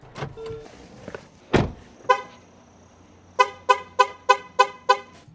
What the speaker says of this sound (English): if you exit the vehicle and lock the car without accessing your rear, the vehicle will also honk at you to grab your attention again